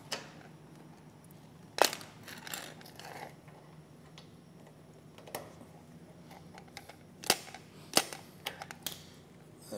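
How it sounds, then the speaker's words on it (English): A grease gun pumps shots of grease into two flange bearings during car wash equipment maintenance: a handful of sharp, separate clicks and squeaks, spaced irregularly over a quiet room hum. "give these two shots of grease."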